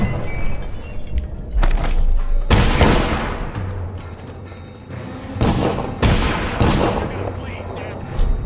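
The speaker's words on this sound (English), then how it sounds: "Oh, he threw a grenade." A grenade goes off during a fight in the video game Dishonored, with several loud booming blasts and gunfire-like bursts over a rumbling background, and a voice talks between the hits.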